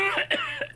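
Players at a tabletop horror role-playing session cough in turn, a few short rough close bursts with throaty voiced edges that sound acted out as their characters choke.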